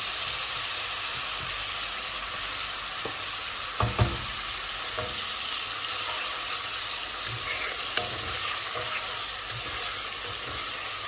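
Onions with salt sizzle steadily in hot oil in a pan while a spoon stirs them, with a few sharp clanks against the pan and no talking.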